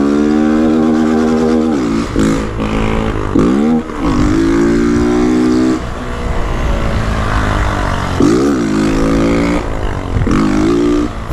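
A 2022 Honda Titan 160 motorcycle with a loud aftermarket exhaust revs hard and close, its engine note rising and falling in repeated blips with a raspy, booming drone throughout.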